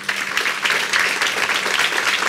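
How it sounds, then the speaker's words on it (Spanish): A church congregation applauds, a dense, loud, even wash of many hands clapping at once, filling the whole stretch without a break. "Apláudale bien fuerte al Señor."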